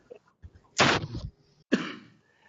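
A person with a head cold lets out two short, harsh coughs, one strong burst followed by a second a moment later, close and fairly loud in an otherwise quiet room.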